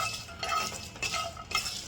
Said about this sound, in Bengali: দারচিনি এলাচ লবঙ্গ এবার এগুলোকে আমি হালকা আছে একটু ভেজে নেব